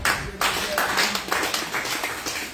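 A church congregation claps rhythmically to acclaim the Lord during an evening worship teaching, a steady run of sharp, dense claps filling the room with crowd noise mixed in.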